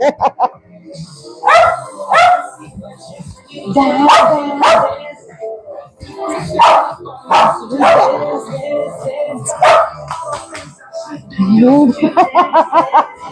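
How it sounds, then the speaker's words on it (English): A pet dog barking and yipping in repeated bursts at home, fairly close and loud, mixed with human voices and laughter throughout. "Our doggy."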